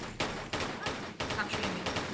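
Gunfire in Tomb Raider 3 Gold, a run of about five loud, evenly spaced shots close up, with a voice speaking over them.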